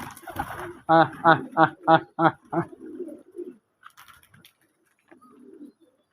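Domestic pigeons in a loft give a series of about six rhythmic, close coos, then fainter murmuring and a few soft rustles.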